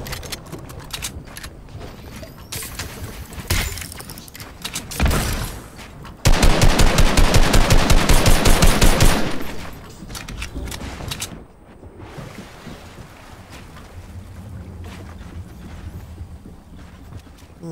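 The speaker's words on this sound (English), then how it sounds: "The drum gun." A drum gun firing in Fortnite: a long, loud automatic burst of rapid, evenly spaced shots in the middle, with scattered single shots and game noise before it and quieter ambience after.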